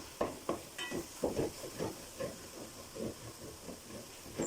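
Whole cinnamon, cloves, cardamom and fennel seeds fry in hot oil for a chicken biryani, with a steady sizzling hiss broken by repeated soft stirring scrapes and pops at close range.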